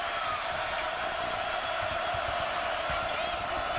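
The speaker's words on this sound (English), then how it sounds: "Here comes the crowd again." Basketball arena crowd at a Marquette versus Wisconsin college game, a dense, constant roar of cheering and noise filling the hall, distant and unbroken.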